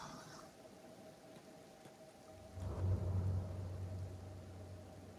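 Acid rain in the video game Kenshi, a soft, steady patter with a low rumble that swells partway through, faint and distant throughout.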